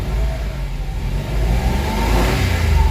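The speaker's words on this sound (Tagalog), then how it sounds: "maririnig nyo yung galit ng makina" A Mitsubishi Mirage engine with throttle delay and low power revs hard, its growl rising and swelling louder toward the end, steady and close with no talking.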